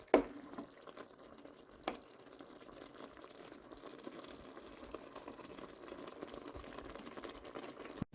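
Chicken simmers in spiced water over a medium flame, giving a soft, steady bubbling and sizzle close by. One or two brief clinks come through, with no talk.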